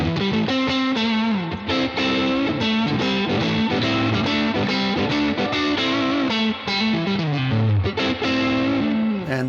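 Electric guitar played through a Universal Audio Dream '65 Reverb amp with a boost pedal engaged gives a loud, continuous, distorted tone with sustained chords and moving bass notes and no talking.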